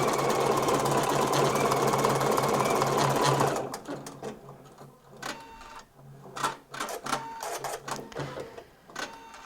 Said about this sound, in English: I'm going to go ahead and stitch for a little bit longer.